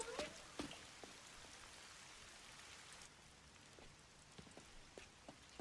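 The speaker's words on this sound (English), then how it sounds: "Just nice, calm rain." Gentle, steady rain from a video game patters softly with scattered drip-like taps, a calm continuous wash without any voices.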